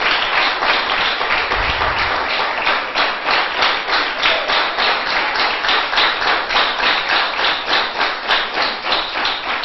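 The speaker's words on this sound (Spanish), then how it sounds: "Démele un fuerte aplauso al Señor en esta noche." A church congregation claps together in steady, rhythmic unison for several seconds, a loud and even beat of many hands filling the room.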